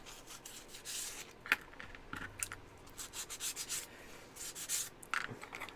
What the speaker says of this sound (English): Let's get these sanded down a touch.